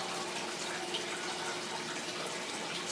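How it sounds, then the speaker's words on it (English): Air-pump-driven DIY filter in an established aquarium, steady soft bubbling and trickling water with a constant fizzy hiss, faint and even throughout, no talk. "the bubbles that are produced by the air pump, when they enter the bottom of the filter, when the bubbles rise up, they create a suction"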